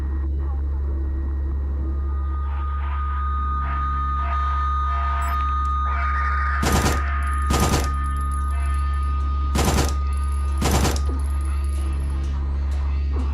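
Gunfire in the Signalis video game: four sharp, separate shots come roughly a second or two apart in the second half, over a constant low electronic hum and quiet ambient tones.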